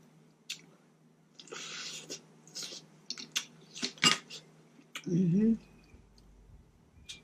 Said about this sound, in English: Let me grab a fork to get that thing out